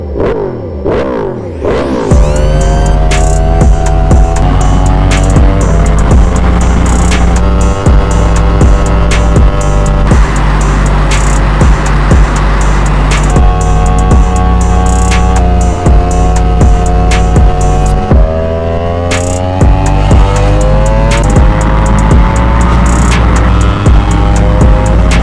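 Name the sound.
2022 Yamaha R1 motorcycle engine while riding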